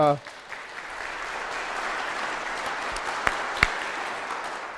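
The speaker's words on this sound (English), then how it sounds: "So one more round of applause." Sustained audience applause after a seminar lecture, an even wash of clapping from a room full of people, with a brief voice at the start and a couple of sharp claps standing out near the end.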